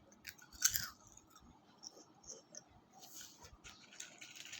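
Crisp, crunchy chewing of a crispy snack from a northern Thai temple fair, close-miked with irregular bites and crackles that rise and fall over a few seconds.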